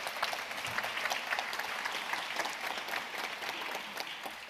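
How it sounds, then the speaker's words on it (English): An audience at a World Food Day ceremony claps steadily for food heroes, a dense wash of applause that holds at an even level from start to finish without talk. "A big round of applause for our food heroes."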